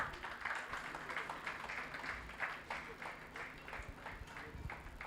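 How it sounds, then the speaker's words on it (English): An audience at a memorial colloquium keeps up a steady, sustained round of applause throughout, with dense overlapping claps at an even level and a faint murmur of voices underneath. "Please, can we keep clapping until he gets up here?"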